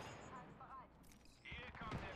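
Gunfire from the Apex Legends video game, a burst of shots under game noise and talk-like sounds, fairly faint overall with a stronger cluster near the end.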